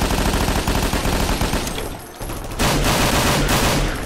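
Dense, sustained gunfire from the Half-Life beta build video game rattles in loud overlapping bursts, drops out briefly near the middle, then resumes at full intensity.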